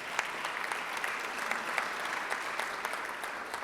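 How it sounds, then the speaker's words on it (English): Audience applause at a Rotary club meeting honoring Jefferson Award recipients, a steady dense wash of many hands clapping at moderate, slightly distant volume throughout, with no talking. "give them a round of applause as well"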